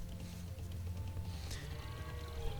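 Sheep bleat in Age of Empires II, short game bleats over a low, continuous background hum, fairly quiet and with no talking.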